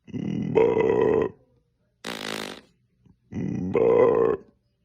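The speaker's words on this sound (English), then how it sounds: "Burp." Three loud, close burps, two long, deep, voiced belches with a gap between them and a shorter, raspier one in the middle, each separated by silence.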